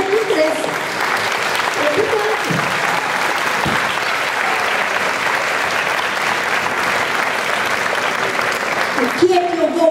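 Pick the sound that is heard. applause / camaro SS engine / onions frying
applause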